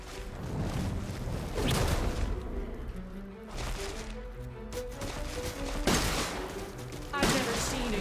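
Shotgun blasts in the horror game Resident Evil Village, several loud, spaced booms with echoing tails, separated by quieter stretches of ambient game sound.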